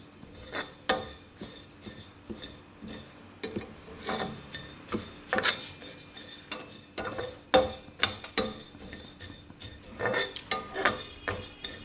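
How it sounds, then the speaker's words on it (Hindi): Cumin seeds dry roasting in a pan with no oil, with irregular scraping and clinking strokes of a spoon stirring against the metal, close and fairly loud, without any talk. "एक मिनट के बाद 2 खाने के चम्मच जीरे के इसमें ऐड कर रही हूँ।"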